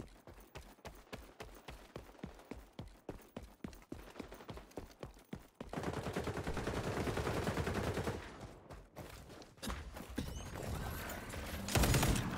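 Rapid, evenly spaced gunshots from an automatic weapon in the shooter game XDefiant crack in a steady rhythm, then give way to a dense stretch of sustained fire and a final loud burst near the end.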